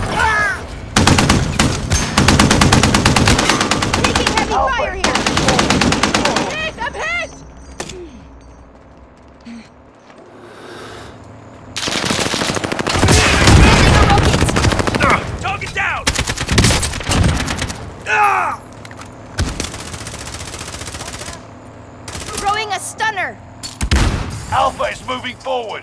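Machine gun fire in Call of Duty: Warzone rattles in long, loud bursts separated by brief lulls, mixed with booms and game voices.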